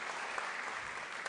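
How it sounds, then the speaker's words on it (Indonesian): Studio audience applauding comedian Dingsi at an Indonesian stand-up comedy competition show, a dense, steady patter of clapping throughout the short stretch at moderate level. "Tepuk tangan sekali lagi untuk Dingsi"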